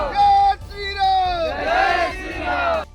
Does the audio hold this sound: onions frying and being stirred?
no